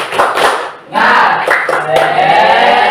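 A primary school class does a rhythmic clapping cheer, with bursts of hand claps mixed with children shouting together, loud and close in a classroom.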